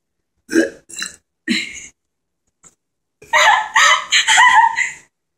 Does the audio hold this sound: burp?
yes